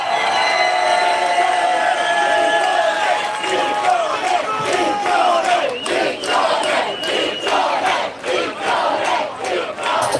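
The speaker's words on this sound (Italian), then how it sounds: "che applausi ragazzi" A concert crowd in Carmagnola cheers and shouts loudly, sustained yelling and whooping that gives way to rhythmic clapping, dense and close.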